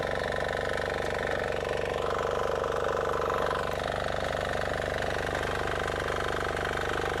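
A Sharp Garuda diesel mini weeder runs in a banana field, its engine a loud, continuous close chugging drone with a fast even rhythm and no pauses.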